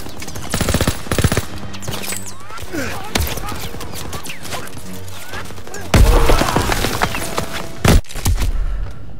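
Machine gun fire from a hayloft MG in the Call of Duty WWII PC game, with loud bursts and gunshots throughout, an especially heavy barrage in the final seconds, mixed with shouted in-game voice commands.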